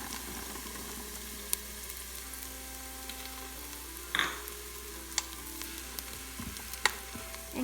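Diced Chinese sausage and garlic fry in a pan with a soft, steady sizzle, punctuated by occasional sharp clicks and scrapes of a utensil stirring.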